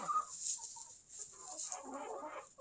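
A rooster clucks and calls at moderate distance, with short throaty notes and a longer rising call, over faint outdoor background noise.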